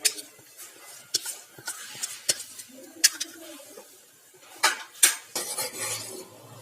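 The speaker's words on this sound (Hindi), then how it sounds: "इसको थोड़ा थोड़ा डालते हुए इस तरह चलाते जाएंगे ताकि इसमें लम्स ना बने" A spoon stirs custard powder mixture in a metal pan, giving irregular close clinks and scrapes against the pan with short pauses between strokes.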